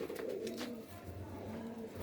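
Pigeons coo at a breeders' loft, low soft rolling calls repeating close by and steady, with a faint bird chirp above them and no talking.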